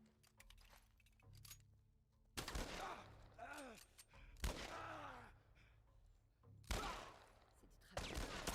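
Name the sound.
gunfire in video game The Last of Us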